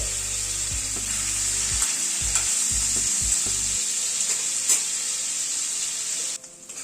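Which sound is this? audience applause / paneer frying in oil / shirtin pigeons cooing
paneer frying in oil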